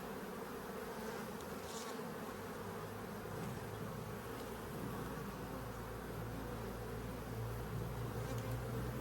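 Honeybees buzzing loudly around an open beehive during a Demaree split for raising queens, a dense, continuous drone with individual bees whining close by.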